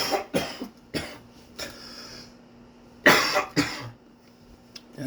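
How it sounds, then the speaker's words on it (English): A person coughs in several short, sharp bursts spread over a few seconds, close to the microphone, with quiet gaps and a faint steady hum between them. "I'm sorry for all the coughing"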